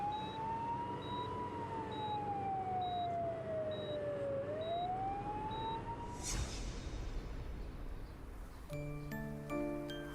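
An ambulance siren wails in a long rising and falling sweep, steady and fairly loud, then a passing rush of noise as other tones and traffic sounds follow near the end.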